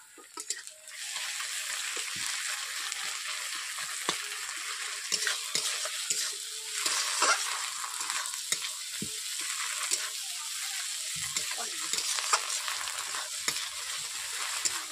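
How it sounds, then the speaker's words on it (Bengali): Ginger garlic paste frying with browned onions in a pan, a steady close hiss of sizzling oil throughout, broken by occasional soft scrapes and clicks of stirring. "বন্ধুরা দেখতেই পাচ্ছেন আদা রসুন একই সঙ্গে পেঁয়াজের সঙ্গে আমি ভেজে নিয়েছি।"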